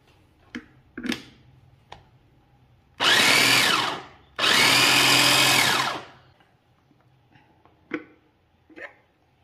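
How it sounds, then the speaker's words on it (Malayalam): Curd mixed with a little water being whipped by an electric beater in two loud whirring bursts of a couple of seconds each, with light clicks and knocks before and after. "നമുക്ക് ഈ തൈരൊന്ന് വിപ്പ് ചെയ്തെടുക്കാം."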